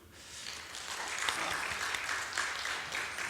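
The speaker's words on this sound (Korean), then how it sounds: "잘 따라오신 분들 감사하면 하나님 앞에 영광의 박수를," Congregation applause during a Sunday church service, a broad steady wash of clapping from many hands that holds fairly even throughout, moderately loud and without talk over it.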